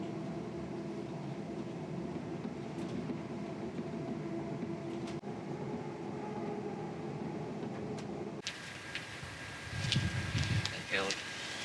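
A West Midlands Railway train runs along with a steady droning rumble and hum inside the carriage, joined near the end by a brief beeping chime and a voice speaking.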